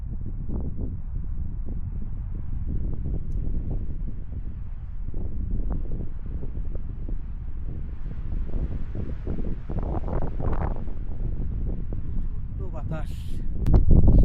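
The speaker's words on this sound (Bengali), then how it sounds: "বাতাস।" Wind on snowy Mount Hood buffets the microphone in a constant low rumbling roar with uneven gusts, swelling a little louder near the end.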